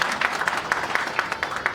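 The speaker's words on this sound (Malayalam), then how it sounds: "നിങ്ങളത് കയ്യടി കൊടുക്കുക" Audience applause at a movie audio launch event, a sustained crowd clapping with rhythmic sharp peaks, moderately loud and steady throughout.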